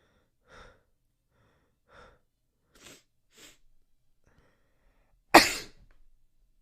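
Two quiet sniffs and two sharp breaths lead up to a loud, close sneeze near the end, followed by a brief trailing exhale.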